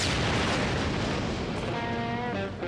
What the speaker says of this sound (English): An explosion in the desert.